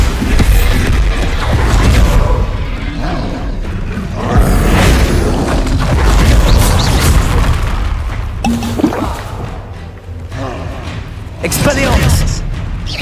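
Repeated Bombarda spell explosions in the Hogwarts Legacy video game, loud booms and crashing debris amid dense combat noise, with talk running underneath.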